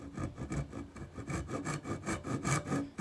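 A handsaw runs down the sides of a wooden tenon for a hidden mortise and tenon joint, rhythmic back-and-forth rasping strokes at a quick, even pace, close and alone.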